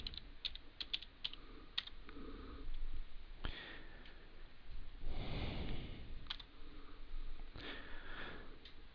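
Commands are typed on a computer keyboard while configuring a Cisco router. Keystrokes come in quick irregular bursts between pauses, close and fairly soft, with an audible sniff partway through.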